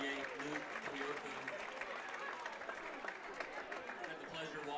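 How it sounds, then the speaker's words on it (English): Applause at a Seaside Gulls vs Banks Braves high school football game for an injured player helped off the field with a left knee injury, a steady spread-out crowd clapping and cheering with an announcer talking over it. "Round of applause for number 58, Luke Toyuka."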